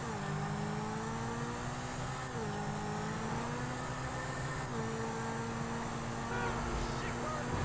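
A car drifting in a video game: a loud, steady engine drone whose pitch steps up and down with each rev, running continuously with a slight swell near the end.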